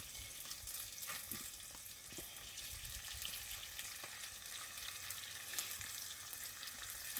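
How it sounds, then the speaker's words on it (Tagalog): Beef fries in a pan at a campsite, rendering its fat with a constant bright crackling sizzle and occasional stirring scrapes, with no talk over it. "lagyan natin ng baka para magmantika siya"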